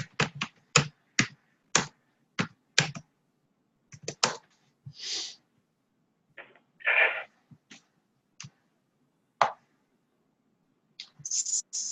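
Someone quickly keys a password into a computer keyboard: sharp, irregular clicks come in quick runs separated by short pauses, close and alone with no voices.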